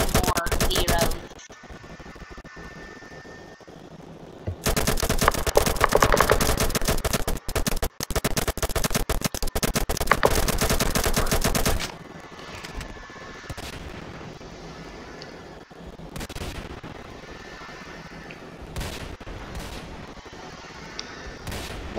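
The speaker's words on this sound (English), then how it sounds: "Open fire." Machine gun fire in a video game, with long, loud, continuous bursts separated by quieter stretches and a few sharp isolated shots.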